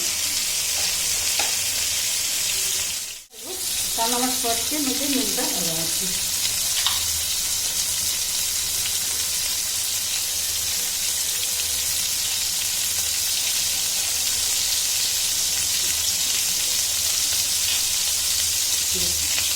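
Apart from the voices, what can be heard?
frying onion and green chilli in a pan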